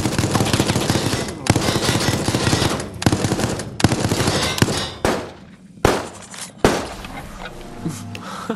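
Sustained automatic gunfire from the video game Resident Evil Resistance pounds out in long, dense bursts. Several abrupt cuts and short pauses break it up, and it thins into lighter impacts near the end, with no voices.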